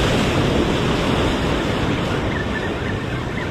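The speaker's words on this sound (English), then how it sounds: "here comes some waves" Ocean waves surge against a rocky jetty on the coast during a fishing outing, a loud, continuous broadband rush of surf and spray with wind buffeting the microphone, no voices.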